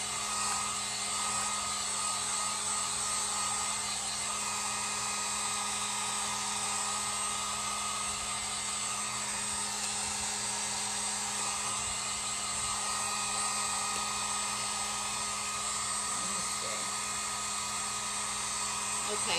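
A Harbor Freight heat gun blows steadily to dry paint on a wooden craft shelf, a continuous loud whirring hiss with a high whine that runs unbroken throughout, with some talk faintly beneath.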